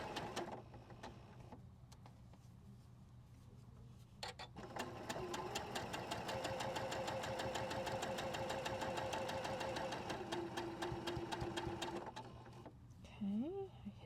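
Domestic sewing machine stitching a quilt block seam, a steady close rapid mechanical whirring run of several seconds starting and stopping, with brief pauses and faint talk nearby.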